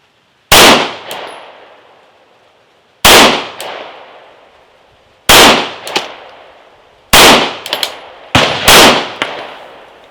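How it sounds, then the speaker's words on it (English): A pistol fires five rounds of PMC Bronze ammunition, each loud, sharp crack ringing out and decaying over a second or more, spaced a few seconds apart with the last two closer together. "Let's go ahead and do another 5-round group of the PMC bronze."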